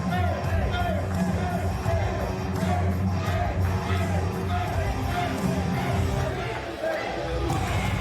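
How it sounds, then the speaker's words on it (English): A wrestling arena crowd in the SPW show roars and cheers in a steady wash of noise, with a commentator talking loudly over it throughout. "you can hear the SPW arena filling with the cheers for this man"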